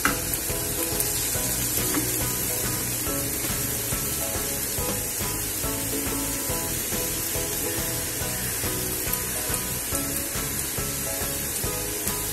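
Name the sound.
grated pumpkin with jaggery sizzling while stir-frying in pan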